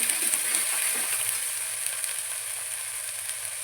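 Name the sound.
spices frying in oil for brinjal curry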